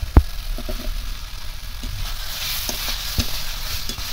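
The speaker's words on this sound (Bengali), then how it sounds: "এবার ভেজে রাখা আলুগুলো দিয়ে দেবো।" Fried potatoes stirred into a cooked-down spice masala in a pan, a steady soft sizzle with scraping stir strokes and a few sharper clinks, close and moderately loud, no talking.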